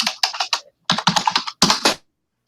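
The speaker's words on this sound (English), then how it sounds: "we hear a whole lot of typing or something" Rapid clattering keystrokes on a computer keyboard come in three quick bursts separated by short pauses, crisp and close, with no voices.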